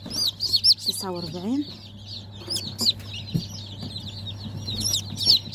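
A mass of young chicks peeping nonstop in high, thin, overlapping chirps, close and lively, while a man counts aloud over them.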